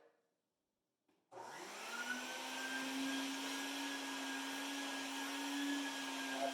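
After a brief silence, a shop vacuum switches on and runs steadily, pulling suction through a Dust Deputy cyclone dust separator for drywall dust, with a constant loud whine and airy roar.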